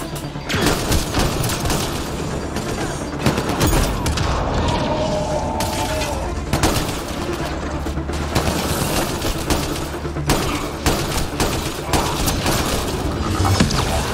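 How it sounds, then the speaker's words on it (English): Shotgun fire in the sci-fi shooter Mass Effect Andromeda during a fight aboard the Archon's ship: dense, repeated gunfire bursts and booms over constant game noise, with voices talking throughout. "goddamn shotgun"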